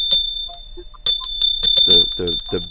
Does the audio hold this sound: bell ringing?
yes